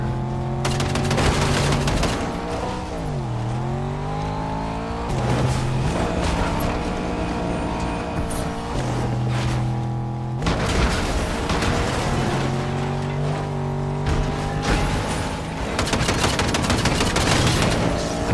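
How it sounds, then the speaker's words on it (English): Fortnite Chapter 5 match on Xbox Series X: loud, dense bursts of machine gun fire mixed with heavy grenade launcher blasts, running nearly continuously with brief pauses and a droning vehicle-like tone underneath. "accurate with the machine gun and the grenade launcher."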